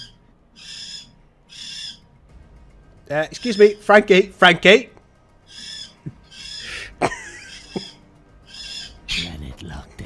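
Pet bird calling in repeated short hooting bursts spaced across the stretch, close and clear, with a person speaking briefly in between.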